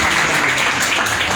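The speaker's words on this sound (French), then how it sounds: "On applaudit Sébastien Janvier" Audience applause at a tribute ceremony honouring young role models, a steady broadband patter of many hands clapping throughout the short stretch, fairly loud and continuous with no pauses or talk.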